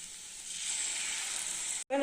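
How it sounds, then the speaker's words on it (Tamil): Rice flour batter for kaara kolukattai sizzles steadily in a hot pan, a close broadband hiss that holds for most of the moment before a brief gap and a soft scrape. "இப்போ நம்ம மாவை எடுத்து ஊற்றிடலாம்."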